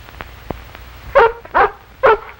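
A dog in a 1939 radio play gives three sharp, close barks in quick succession after a couple of faint knocks, loud and clear with no talk over them.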